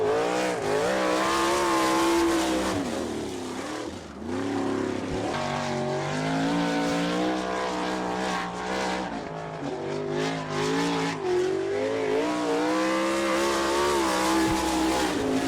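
A sprint car laps the dirt track at Attica, Ohio, in an All Star Circuit of Champions race, its engine roaring loud and continuous with rising and falling pitch as it revs through the turns.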